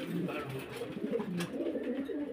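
High-flyer pigeons, young birds for sale, cooing in low, throaty, rolling calls that overlap continuously at close range, with faint voices in the background.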